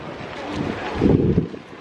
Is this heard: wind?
yes